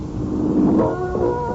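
A car engine runs smoothly on Atlantic Imperial gasoline in a 1959 radio advertisement, a loud close rumble that swells as it revs briefly, then settles into an even, humming tone, heard alone in a lo-fi broadcast recording.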